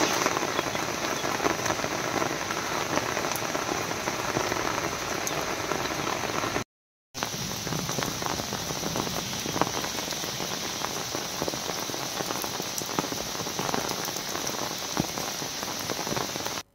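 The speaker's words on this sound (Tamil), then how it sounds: "பல்வேறு பகுதிகளில் சாரல் மழை பெய்தது" Light drizzle falls during a sudden rain shower, a steady dense hiss of raindrops on surfaces that stays even and fairly loud throughout, broken only by one very short gap, with no voices.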